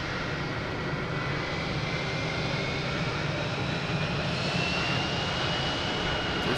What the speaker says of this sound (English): We have an American Airlines taking off, heading to somewhere. It's an A319.